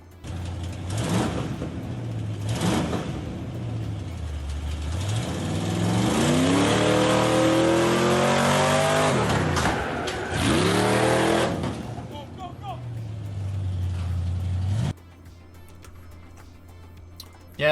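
A truck engine revs repeatedly, rising and falling in pitch through several loud surges before settling to an idle, with voices talking over it.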